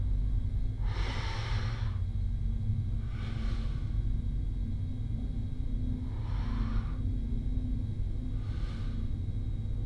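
Four slow, deliberate heavy breaths, each a long breathy rush of air spaced a couple of seconds apart, close to the mic over a low background rumble.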